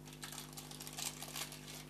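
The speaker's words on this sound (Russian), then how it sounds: "Сейчас положу в пакетик." A small plastic bag crinkling softly as an item is slipped inside, a faint rustling with light crackles rising and falling over a couple of seconds above a low steady hum.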